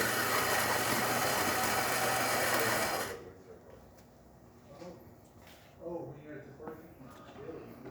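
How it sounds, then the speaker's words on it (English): A Philips coffee machine's grinder crushes coffee beans in a loud, steady whir for about three seconds, then cuts off, leaving quieter clicks and handling noises. "You can hear the grinder is definitely working,"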